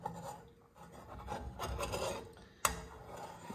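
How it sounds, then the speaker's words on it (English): A spatula scrapes around the sides and bottom of a pan of cooking eggs in rough, rasping strokes, soft and close, ending with one sharp louder scrape. "I'm just scraping the sides so it doesn't stick or cook to the sides and the bottom"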